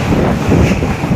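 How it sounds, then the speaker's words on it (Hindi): Strong wind blowing during a violent night storm: a loud, continuous broadband roar with gusty surges and no voices. "बहुत तेज हवा आ रही है,"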